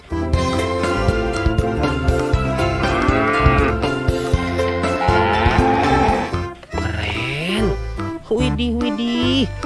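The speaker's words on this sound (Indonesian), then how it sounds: "Wow, ada sapi warnanya merah putih" A toy cow gives repeated electronic moos over loud, busy toy music, with a brief pause near the end before the sound picks up again.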